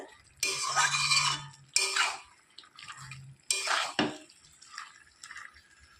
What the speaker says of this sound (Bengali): আমি এই জলেই ভালো করে কষিয়ে নেব